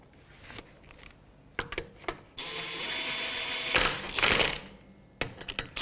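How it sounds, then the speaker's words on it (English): Electric impact gun running slowly to bottom out the rear brake caliper bolts on a 2010-2015 Lexus RX350, heard as a steady whirring rattle for about a second and a half plus a louder burst, with clanks and handling noises around them. "I'll just take my electric gun and just slowly bottom it out"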